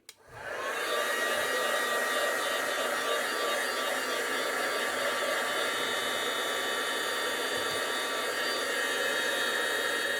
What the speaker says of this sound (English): So we're going to heat emboss that now.